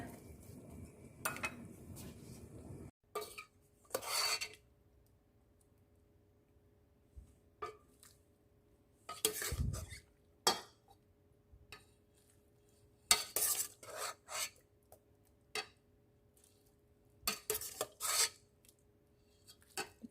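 Spoon and chopsticks clink and scrape against a bowl while eating Thai boat noodles with beef balls, intermittent clatters and stirring scrapes separated by quiet gaps, close and distinct.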